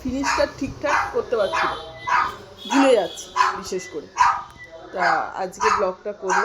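A neighbouring dog barks repeatedly in the background while a person talks steadily over it, the barks partly masked by the voice.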